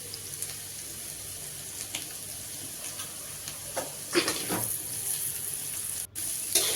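Salted potato pieces are stirred in a frying pan for sabudana khichdi. A steady sizzle runs throughout, with occasional scraping strokes of the spatula close by.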